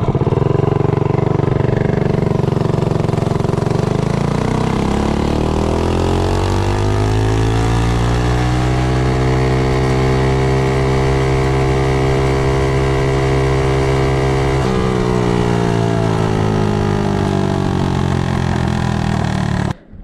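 A Predator 212 small engine fitted with a Hemi cylinder head makes a top-speed run, its loud, close motor climbing steadily in pitch, dropping briefly as it shifts, then rising and holding high before cutting off at the end.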